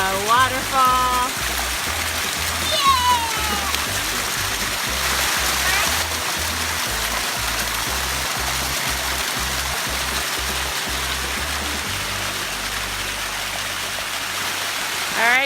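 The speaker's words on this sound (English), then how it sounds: "We made it to the waterfall at North Etiwanda Preserve." A waterfall at North Etiwanda Preserve pours with a constant rushing splash beneath a child's singing and nearby talk, with a low rhythmic knocking sound running through much of it.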